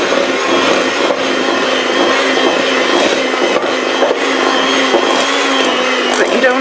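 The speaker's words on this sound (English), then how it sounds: "we're just really now beating it so that we're creaming that butter" An electric mixer creams butter for chocolate chip cookie dough, giving a steady, loud motor whir with a gritty rubbing texture that runs unbroken from start to finish.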